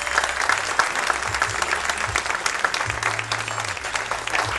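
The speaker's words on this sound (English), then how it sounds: "Give him a real nice round of applause." Audience applause honoring Primus Robinson at a Friends of the Port gathering, steady dense clapping throughout, fairly loud and close, with a low hum underneath.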